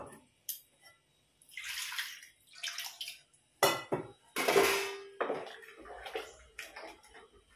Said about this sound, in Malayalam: ഇനി നമുക്ക് സാമ്പാറിൽ പുളി ഒഴിച്ചു കൊടുക്കാം.